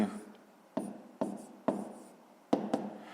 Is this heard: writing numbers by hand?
yes